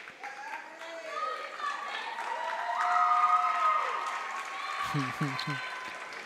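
A high school student section at a unified bocce match against State College cheers and applauds, a steady broad crowd roar with voices calling out, swelling in the middle and continuing throughout.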